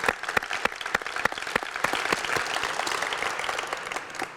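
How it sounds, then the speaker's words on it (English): An audience applauds a Sports Commission board at a civic gathering in Cleveland, a steady wash of many hands clapping with a few sharper, louder claps standing out, moderately distant and without speech. "I want us to just give them another round of applause for all the work they've done"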